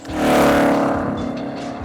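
A Mercedes SL53 with a powerful, loud V8 engine roars close by in a brief revving burst that swells quickly and then eases to a sustained throaty hum.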